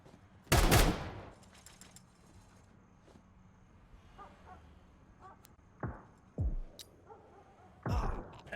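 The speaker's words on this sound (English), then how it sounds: "He sees the gunfire" Gunfire in the tactical shooter Zero Hour during a competitive playoff match: one loud close burst of shots, then several sharper single reports later, with faint game ambience between.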